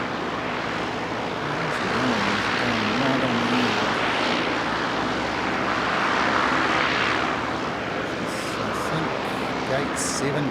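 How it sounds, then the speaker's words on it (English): Light aircraft arriving at an aero club's general aviation area, a steady broad engine roar swelling and easing over the whole stretch, fairly loud and close, with a voice talking faintly underneath. "very many of that sort of aircraft popping in to the general aviation area"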